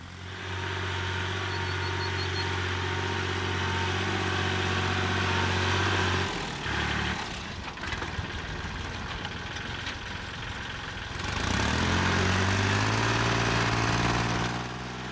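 Steady rumble of a diesel tractor engine running nearby while building a swale on farmland, its drone dipping and changing pitch in the middle before settling back to a constant hum.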